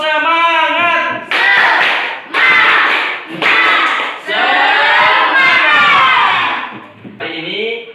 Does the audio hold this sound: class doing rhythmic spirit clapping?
yes